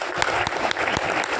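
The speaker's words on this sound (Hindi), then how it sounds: "एक बार तालियां होना चाहिए आप सब लोगों के लिए।" Audience applause at an anniversary gathering in Sambalpur, a brief dense burst of many hands clapping, loud and close, with a few sharper individual claps standing out.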